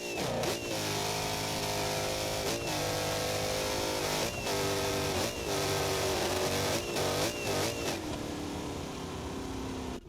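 A drag car launching with nitrous in the BeamNG driving game, its engine revving hard in a fast sequence of rising pitches broken by sharp gear-shift cuts, loud and continuous.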